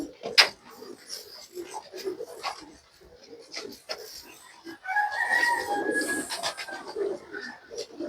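Teddy pigeons coo softly among other birds in a loft, with clucking and low murmuring under scattered knocks and handling noise, and a fuller bird chorus rising midway.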